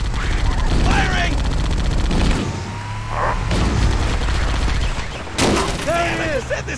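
Heavy gunfire and explosions from the video game Halo: Combat Evolved rumble continuously, with sharper bursts near the start and end and game voices calling out over the din.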